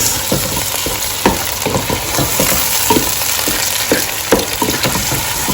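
Bite-size chopped chicken breast fries in a pan and is mixed in, a loud continuous sizzle broken by repeated scraping stirs close by, with no voices.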